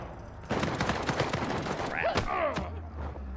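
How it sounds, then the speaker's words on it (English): Rapid bursts of pistol fire from the Enforcer DLC pistol in a team deathmatch of Uncharted 4, a dense run of sharp reports with other battle sounds and whooshing effects mixed in, loud and continuous. "now that is the problem with that particular pistol. That's the Enforcer, the other DLC pistol"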